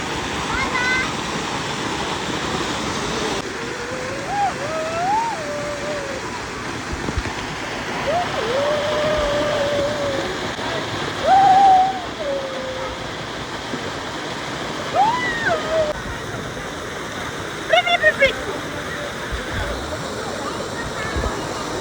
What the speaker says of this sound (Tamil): இது இந்த ஃபால்ஸு ஆர்டிஃபிஷியல் ஃபால்ஸ் ஆனால் சூப்பராக இருந்துச்சு.